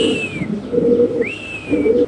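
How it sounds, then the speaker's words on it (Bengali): A female Spanish pigeon at a pigeon market coos close by in two soft, throaty bursts, with faint chirps from other birds behind it. "দেখাই দিলাম ভাই কবুতরের ডাকটা"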